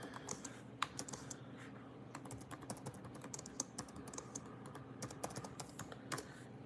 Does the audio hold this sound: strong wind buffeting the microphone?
no